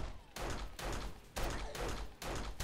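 Bursts of rapid gunfire from guns in 7 Days To Die, four dense volleys of shots separated by short gaps, close and forceful with no talking.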